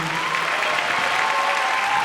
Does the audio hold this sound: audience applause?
yes